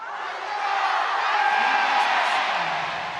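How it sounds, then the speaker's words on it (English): Large esports arena crowd at a League of Legends MSI upper final roars continuously, a dense wash of cheering and yelling that swells slightly, steady and loud throughout. "The crowd doing their best to wake them up, Atlas."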